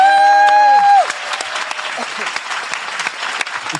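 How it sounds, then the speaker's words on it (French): Audience applause for Cynthia after she is thanked on stage for four years of work, a dense crowd clapping that breaks out as a sustained electronic tone cuts off, then continues steadily to the end. "si vous pouviez faire un tonnerre d'applaudissements parce qu'elle a fait un travail de titan avec nous depuis 4 ans, c'est Cynthia"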